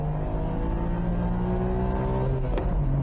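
A Nissan GT-R with four-wheel drive pulls hard in a drag race launch, its engine tone climbing steadily in pitch under a loud, continuous roar, with a brief shift-like break near the end; no speech.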